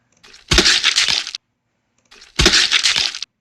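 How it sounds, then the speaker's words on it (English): Two harsh, crunchy shattering bursts, each under a second long, separated by a short silence, like a punchy game sound effect. "I officially found the actual Polygoner kill sound"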